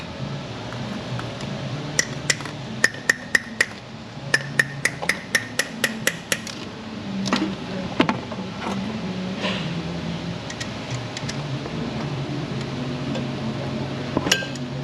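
A hammer taps a socket loose while swapping fuel injectors on a 2500HD with a Duramax 6.6 LB7 diesel: rapid bursts of sharp metallic strikes in quick runs, followed by a few scattered, isolated knocks.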